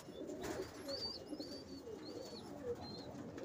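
Pigeons and young squabs in a wire loft cooing steadily, soft repeated throaty coos at moderate distance, with a few higher chirps above a quiet ambient bed.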